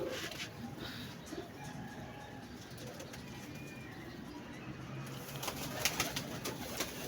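Pigeons cooing nearby, soft repeated coos over a steady outdoor background hum.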